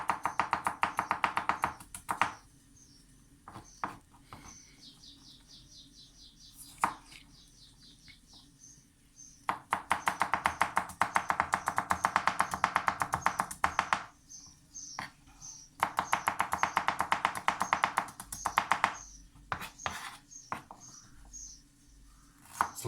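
A knife slices fresh ginger on a cutting board in rapid, even taps, coming in several fast bursts separated by brief pauses, close and fairly crisp.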